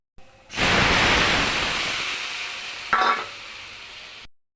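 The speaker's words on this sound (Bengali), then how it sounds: "এবার আমি ঝোলের জলটা দিয়ে দেবো।" Water is poured into a pan of fried mung dal, bursting into a loud, close sizzling hiss that slowly fades, with a brief clink partway through.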